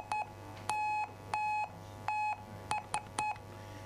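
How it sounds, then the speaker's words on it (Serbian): Clear electronic tones beep in a short-long Morse pattern, with three long dashes followed by three quick dots, steady in pitch and fairly faint. "Tri tačke, tri crte, tri tačke. Međunarodni znak za pomoć, SOS"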